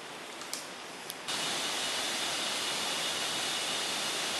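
Steady broadband rush of a river flowing through dense tropical forest on the trail toward Riam Kuweq waterfall, faint at first and then suddenly loud and close, continuing without a break and with no voices.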